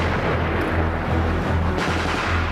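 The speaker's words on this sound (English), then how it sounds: "This is going to be our most casualty producing weapon right here. Test fire!" Test fire of a weapon during urban military training, a burst of sharp loud reports over a steady low rumble, close by with no talk.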